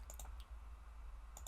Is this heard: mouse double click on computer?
yes